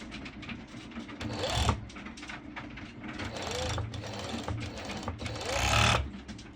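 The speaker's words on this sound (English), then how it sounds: "that's already one side serged, and now we are going to go to the other one" A serger overlock machine stitches along the edge of mesh fabric for a halter neck top, running in short bursts with a whirring mechanical chatter that swells and eases as the sewist feeds the seam slowly.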